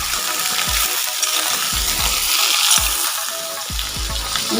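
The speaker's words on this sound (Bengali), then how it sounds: "এগুলো একটু ভেজে নিই।" Radish, pointed gourd and potatoes sizzle steadily in hot oil in a pan, with a dense continuous crackle broken by several low knocks as the vegetables are stirred, close and loud with no talk.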